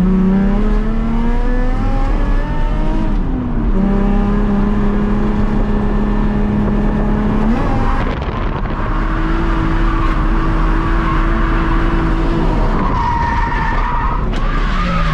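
A Nissan 350Z on slick tires drifts around a track at Ebisu, Japan, its engine revving high and shifting in pitch under continuous loud tire squeal, close and sustained throughout.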